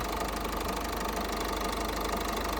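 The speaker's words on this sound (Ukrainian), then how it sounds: "Працює гарно, рівненько дизель, не чую взагалі жодних посторонніх шумів чи звуків" Steady diesel engine idle of a 2011 automatic crossover car, close and even, a constant rumbling drone with a fine mechanical clatter and no change in speed.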